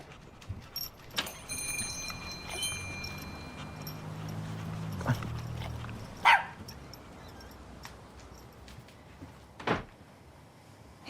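A dog in a romantic TV movie scene gives a few separate barks spread out over several seconds, mixed with light knocks and clatter in a quiet room.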